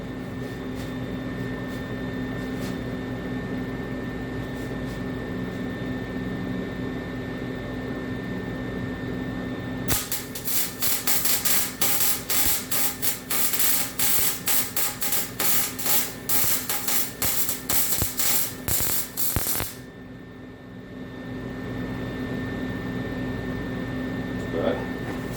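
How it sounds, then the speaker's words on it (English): Welding on a frame connector for a Project Turbo LS build, a dense crackling buzz that runs steadily for about ten seconds in the middle of a humming shop background, then cuts off abruptly. "let's weld this sucker."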